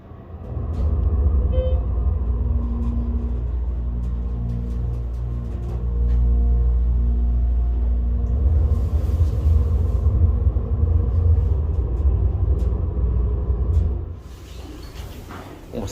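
A Schindler 330A HT hydraulic elevator at Syosset Public Library, low on oil, runs with a continuous deep rumble and hum at steady loudness for most of the clip before easing down near the end.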